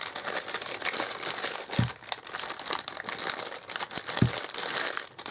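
Paper envelope crinkling continuously as a decorated Christmas candle is pushed inside, with two soft low thumps as it settles; close and steady, no voices.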